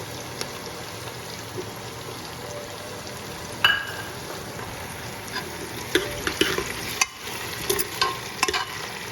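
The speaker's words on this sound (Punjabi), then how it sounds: "ਤੇ ਨਾਲ ਹੀ ਆਪਾਂ ਟਮਾਟਰ ਤੇ ਸ਼ਿਮਲਾ ਮਿਰਚ ਪਾ ਦਿੰਦੇ ਹਾਂ" Chopped tomato and capsicum sizzle and fry in a pan for savory daliya, with close stirring scrapes and clinks over a constant frying hiss, growing busier toward the end.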